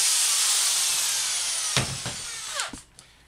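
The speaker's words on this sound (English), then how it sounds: "using a 5/8 inch paddle bit, you basically just want to drill a hole right here" A 5/8 inch paddle bit drills a hole low in the wall of a plastic worm bin, producing a short broadband whir that gives way to a few sharp bursts and squeaks as the bit breaks through near the end.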